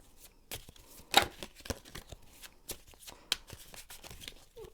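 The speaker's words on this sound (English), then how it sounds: "I'm gonna shuffle a bit more." Tarot cards are shuffled by hand, giving a series of short riffling and snapping bursts with quiet gaps in between, close and fairly faint, with no talking.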